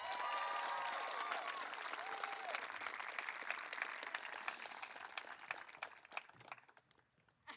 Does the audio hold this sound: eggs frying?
no